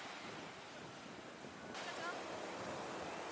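Waves washing onto a beach in Cancún form a faint, steady broadband surf hiss under some wind noise, with no clear individual breakers.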